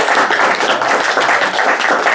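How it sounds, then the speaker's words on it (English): Dense, steady applause fills a gala honoring work against human trafficking, a loud, continuous wash of many hands clapping throughout with no voices over it. "Give them a round of applause, please."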